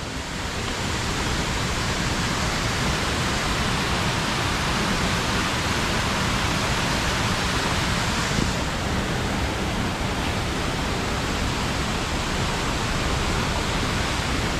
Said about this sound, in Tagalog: Yan ang waterfalls.